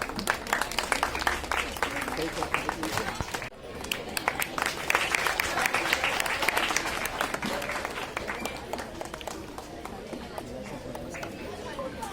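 An audience at a change-maker award ceremony held by a school principal in Malvani claps in sustained, dense applause, mixed with crowd chatter and voices talking nearby.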